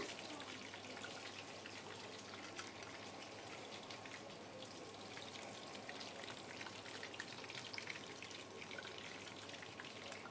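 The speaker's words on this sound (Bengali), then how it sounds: "এবার আর এক ব্যাচ ভেজে নিচ্ছি আমি" Chicken pakoda pieces fry in hot oil, giving a faint, steady crackling sizzle, like light rain, that holds evenly throughout.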